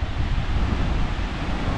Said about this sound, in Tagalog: Ang ganda na ng dagat.